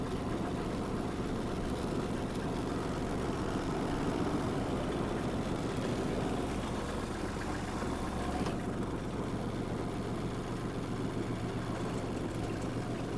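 Small Kubota GL-200 Japanese mini tractor engine idling steadily with a low, even rumble, held stopped in gear on the brake pedal, continuous and close with no talk.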